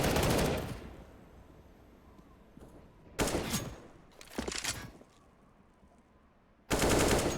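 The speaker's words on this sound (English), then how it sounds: "Rise looking to get something happening there in Hut with that Galil" Bursts of Galil rifle fire in a Counter-Strike match crackle in short rapid volleys, loud and sharp, separated by quieter stretches of low game ambience.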